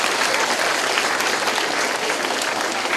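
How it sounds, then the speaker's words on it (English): Audience applause at a school music week program, honoring a volunteer, a dense, even wash of clapping from a full crowd, loud and sustained with no talk over it. "Would you give her a special round of applause, Mrs. Hicks?"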